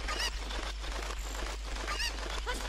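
Cucco chicken in Zelda: Ocarina of Time giving loud, repeated squawking honks over a steady background hum, near and continuous across the whole stretch.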